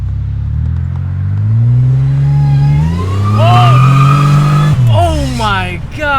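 A supercharged Toyota car revs hard and accelerates close by, its engine note climbing in loud sweeping rises and shifts under excited voices talking throughout.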